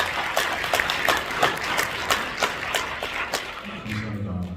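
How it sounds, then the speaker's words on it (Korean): Audience applause at a Christian civic forum and press conference, a steady round of clapping that carries on until a voice begins speaking near the end. "박수 한번 보내주시면 감사합니다."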